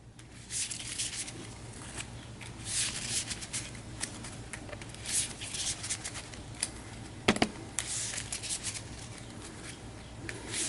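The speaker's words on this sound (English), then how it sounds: "Give this a quick shuffle on camera." A deck of game cards is shuffled by hand, producing a series of quick riffling and tapping bursts that come in irregular clusters, close and fairly quiet.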